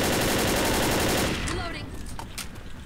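Rapid automatic gunfire from Left 4 Dead players shooting at a Tank, a loud continuous burst of shots that fades after a second or so, with voices underneath.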